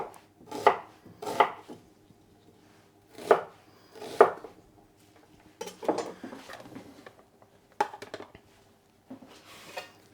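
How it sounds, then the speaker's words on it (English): A regular white onion is chopped roughly on a cutting board, with a knife landing in distinct clusters of sharp thuds and pauses between bursts, close and clear with no talking. "I have a regular white onion here that I'm just going to cut quite rough to throw in the stock as well"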